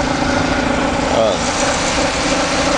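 A 1997 Ford Escort engine fitted with a Mikuni motorcycle carburetor holds a smooth, even idle, a steady close hum running under a voice.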